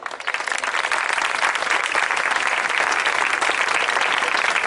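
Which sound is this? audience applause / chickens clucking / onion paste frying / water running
audience applause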